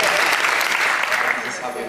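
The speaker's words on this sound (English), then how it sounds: "a little applause for the girl who keeps running around with the microphone" A crowd at a film premiere gives a short, steady burst of applause that fades slightly toward the end.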